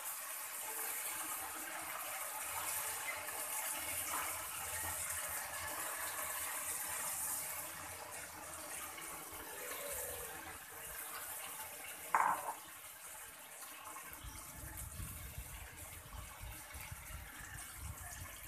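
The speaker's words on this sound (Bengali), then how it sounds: "এখন ঝোলের পরিমাণে জল দিয়ে দেবো" Water is added to a fish and vegetable curry cooking at home, a soft continuous watery rush with a brief clack partway through, close and fairly quiet, with no talking.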